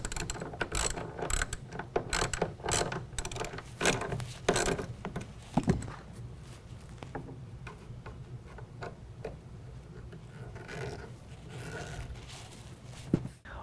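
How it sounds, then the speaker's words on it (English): A ratchet tightens a 13mm nut and a Phillips screw on the bed rail of a 2019 Chevy GMC 1500 during a Roll-N-Lock M-Series tonneau cover install, with close rapid clicking bursts, then quieter scattered ticks. "You will reinstall the 13mm nut, tighten that down, and then we can go ahead and tighten down the Phillips head screw."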